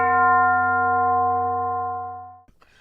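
A single gong is struck once, ringing loud and sustained with a bright metallic tone that slowly fades over about two and a half seconds before a brief soft knock.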